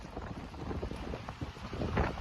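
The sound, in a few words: strong gusting wind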